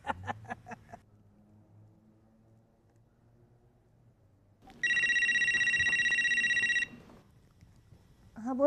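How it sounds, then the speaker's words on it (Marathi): A telephone bell rings in a single loud, sustained electronic burst of about two seconds, standing out sharply after a stretch of quiet room tone, with a few soft bumps and a brief voice at the edges. "असंच फोनची बेल वाजली"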